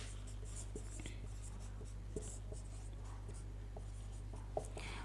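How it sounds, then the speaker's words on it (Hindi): Chalk or marker scratches steadily on a board during a current affairs lecture, faint taps and strokes under a low steady hum, with no talking. "मुख्यालय में लिखता हूँ"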